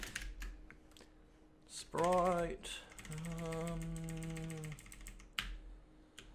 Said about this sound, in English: As you guys can hear, I've gotten myself a nice new keyboard.